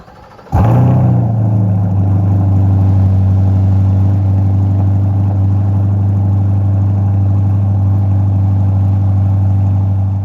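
C8 Corvette engine starting up and running at a steady loud hum as the car is moved outside, close and continuous with no talk.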